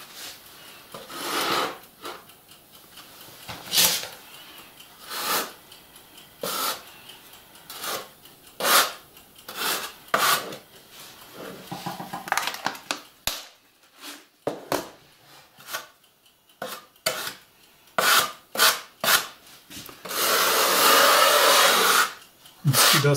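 Filler is pressed and scraped into nail holes on a G-scale LGB model railway layout, making close, quiet, intermittent rubbing and scraping strokes with short pauses between them and a longer rasping pass at the end.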